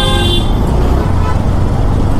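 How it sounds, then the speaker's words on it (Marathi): Heavy city traffic in Pune roars loudly and continuously, with a horn tooting at the start over the engine and road noise, and some voices faintly underneath. "खूपच जास्त ट्रॅफिक आहे."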